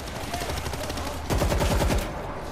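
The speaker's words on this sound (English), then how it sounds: "I like this gold AK, though." Gold AK rifle gunfire from the World War Z zombie shooter comes as rapid automatic bursts, steady through the clip and growing louder and denser near the end before cutting off, with no talking.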